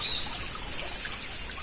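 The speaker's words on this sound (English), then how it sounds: "Can you hear the sound of the water?" Water trickling gently in a village swamp, a soft, steady dribble that runs unbroken at low volume, with faint insect-like chirps above it and no talking.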